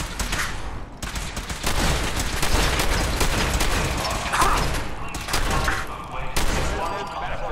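Gunfire from a gun in Fallout 4: loud, sustained rapid shots in a dense, continuous barrage with booming impacts, broken by brief pauses and mixed with other game sounds.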